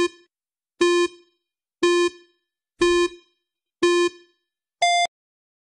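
Quiz countdown timer beeping, six evenly spaced electronic tones about a second apart, the final one higher pitched, loud and clear with silence between.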